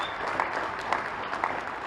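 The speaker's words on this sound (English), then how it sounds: "give yourselves a big round of applause" A room full of skills summit delegates gives a brief, even burst of applause, dense and steady throughout.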